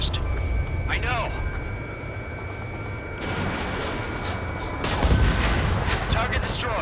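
Anti-aircraft and cannon gunfire aimed at aircraft in the combat flight game Ace Combat 7, a dense rumbling barrage over steady engine roar, swelling louder in bursts toward the end, with occasional radio-style voices.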